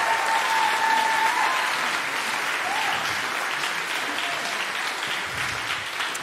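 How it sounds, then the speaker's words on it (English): An audience applauds at a university choir and symphony orchestra concert, a dense and sustained wash of clapping from a full hall that stays fairly even, then thins slightly toward the end. "So I hope that we live up to your thunderous applause"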